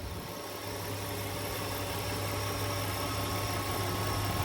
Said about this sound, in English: Typical beautiful V6 sound, very smooth.